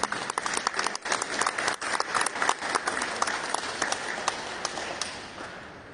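An audience claps at a ministerial reception for a traditional art and crafts collection, with a few distinct close claps over a fuller round of applause that gradually tapers off.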